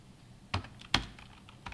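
Quiet, close keystrokes on a computer keyboard during PLC programming software work, with a few isolated clicks and one sharper press like the Enter key, no talking.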